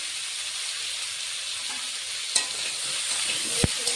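Fish with potato, cauliflower, turmeric and salt fries in hot oil, giving a steady, close sizzling hiss throughout, broken by a couple of sharp clicks from a utensil against the pan.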